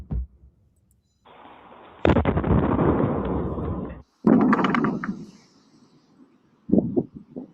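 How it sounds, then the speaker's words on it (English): A meteor about three feet wide exploding in the atmosphere over Massachusetts and New Hampshire, picked up by a porch camera: a series of loud booming rumbles, with sustained blasts and then a few sharp thumps near the end. "Those explosions coming from space after a 3-foot wide meteor entered the atmosphere near Massachusetts and New Hampshire"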